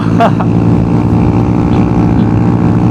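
A Honda MSX small motorcycle's engine drones loud and close at a steady pitch, held on throttle while riding fast along a road, with wind rush mixed in and no talking.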